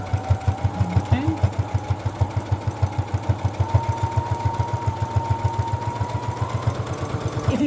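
Sewing machine running steadily as it stitches scrap fabric along the edge of a keychain, a fast even mechanical chatter of needle strokes throughout, close and continuous with no talking.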